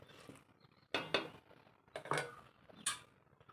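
Lid being set on a pot of curry, a few quiet clinking metal taps and clanks spaced apart at close range in an otherwise hushed kitchen.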